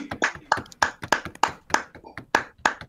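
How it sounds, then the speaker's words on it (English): Hand clapping picked up over a microphone during an online drawing-critique livestream, a few claps in a steady loose rhythm of sharp close slaps, with faint voices between them. "Let's all unmute and clap for them."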